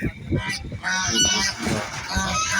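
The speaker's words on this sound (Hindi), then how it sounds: "ये बदक" Domestic duck quacking and honking loudly and close by in a village setting, a run of repeated harsh calls over about three seconds with a faint voice in the background.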